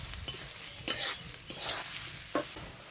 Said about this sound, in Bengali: পেঁয়াজটা এখন বেরেস্তা বানাই নেই।